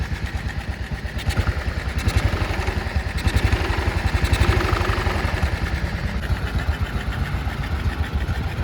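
A 1955 BMW R25 motorcycle engine idles with a fast, even thump, then is revved gently, so the pitch swells for a few seconds before settling back to a smooth idle, close and loud.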